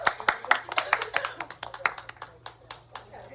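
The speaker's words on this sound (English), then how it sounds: "Let's give her a round of applause" Audience applause heard as a fairly sparse run of distinct claps at a steady, quick rhythm, gradually thinning out toward the end.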